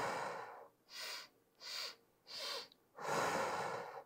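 Deep breathing exercise: four slow, airy breaths, inhales and exhales about a second each with short pauses between, the last longest, close and clear with no talking.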